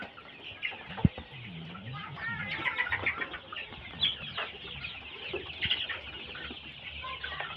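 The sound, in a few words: chickens clucking on a poultry farm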